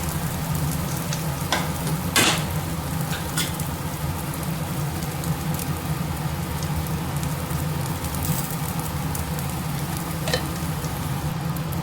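Masala potato chapati frying in hot oil in a pan, a steady close sizzle and crackle running throughout, with a few sharper pops and spatters rising briefly above the constant hiss.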